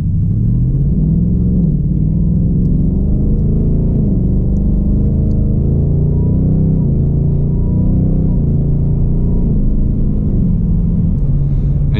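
A 2021 Ford Mustang Mach 1 V8 exhaust rumbles loud and close, its pitch climbing under partial throttle and then dropping with each gear change, repeating through several shifts.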